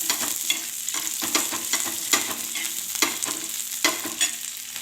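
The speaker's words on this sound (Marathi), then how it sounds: "थोडं कोथिंबीर टाकून घेऊ अशा प्रकारे आम्ही भाजून घ्यायचं" Misal masala mixture with coriander being dry-roasted in a pan, a steady sizzle broken by repeated scraping stirs of a spoon against the metal, close and fairly loud with no talking.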